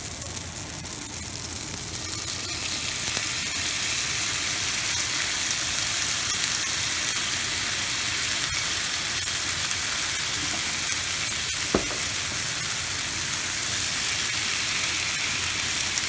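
Sauce or gravy poured in with sausage sizzles steadily inside a rice cooker making pasta, a loud, continuous frying hiss with faint crackles and no voices.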